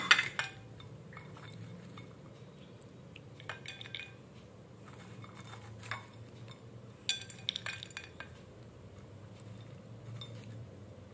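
Spoon stirring kurkure dahi chaat in a serving bowl, giving sparse, quiet clinks and scrapes against the bowl at irregular intervals over a low background hum.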